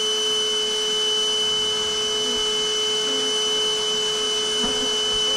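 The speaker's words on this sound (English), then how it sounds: "I am also vacuuming just big chunks of comb" A bee vacuum pulls bees and chunks of comb from a shed floor, giving a loud, steady motor drone with a constant whine that runs unbroken throughout, and no talking.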